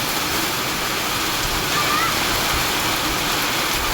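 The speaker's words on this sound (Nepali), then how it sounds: "पानी परेर कस्तो बिजो भइलो नि त" Heavy rain pours steadily over a rice paddy during planting, a dense, unbroken hiss of falling water that holds at an even level throughout.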